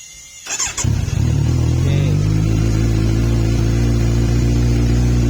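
A Kawasaki Z900 motorcycle engine cranks briefly and catches, then settles into a loud, steady idle close by, with no voices.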